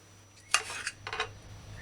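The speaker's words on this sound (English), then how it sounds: "Chop and dice Irish potato." A sharp knife chops and dices an Irish potato on a chopping board, giving a few light, close clicks and knocks in two short clusters over a quiet background.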